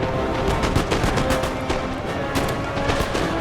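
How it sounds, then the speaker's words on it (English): Musket volleys from grenadiers and Hungarian fusiliers crackle in rapid, overlapping bursts across a Napoleon Total War battle, dense, sustained gunfire with a few louder cracks standing out. "Grenadiers and Hungarian Fusiliers firing at them"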